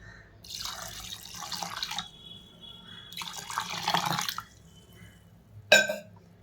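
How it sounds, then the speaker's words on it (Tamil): Water poured from a tap into a cooking pot while making adai payasam, two bursts of running, splashing water separated by a pause, then a brief sharp clatter near the end, with no talking. "இதில் வந்துட்டு நம்ம தண்ணி ஆட் பண்ணுறோம்"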